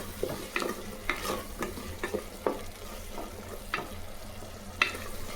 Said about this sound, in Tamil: கொத்தமல்லி போட்டு நல்லா வதக்கலாம்.